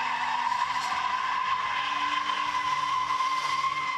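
Tires of a Ford Mustang 4.0 V6 squeal hard while it drifts with the throttle floored, a sustained, steady screech that is loud and close and runs the whole time with no talking.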